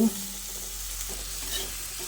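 Flat beans fry in a pan with a steady, close sizzle while a utensil stirs them, giving soft scraping movement over the constant hiss.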